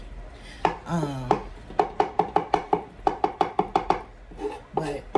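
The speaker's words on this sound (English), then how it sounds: "But the garlic is minced up." A knife mincing garlic on a cutting board while a vegan Sunday dinner is prepared: a quick run of sharp, evenly spaced chops, close and crisp, with a brief voice near the start.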